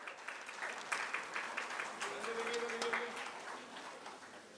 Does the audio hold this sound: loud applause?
yes